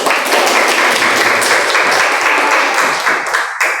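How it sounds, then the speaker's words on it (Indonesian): A classroom of students claps together loudly and close by, dense rapid applause with a rhythmic pulse that holds steady for several seconds before tapering near the end. "Tepuk tangan dulu."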